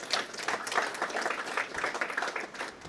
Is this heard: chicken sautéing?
no